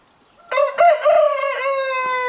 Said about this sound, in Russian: Самый хитрый петух.